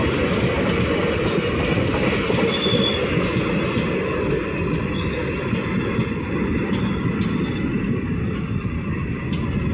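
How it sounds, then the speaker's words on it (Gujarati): A long passenger train with yellow coaches rolls slowly past while braking. Steady, loud wheel rumble and clatter run throughout, with thin metallic brake squeals rising above them. "ધીમે ધીમે બ્રેક મારે છે ગાડી."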